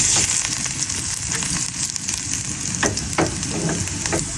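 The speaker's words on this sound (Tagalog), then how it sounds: "Lagay agad natin itong luya para maprito-prito na agad." Garlic and ginger fry in a hot pan with a steady, close sizzle and crackle, punctuated by a few brief scraping stirs, with no voices.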